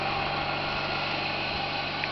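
A John Deere 116 racing tractor with a 16 horsepower twin engine runs steadily, a constant mid-pitched engine drone without talk.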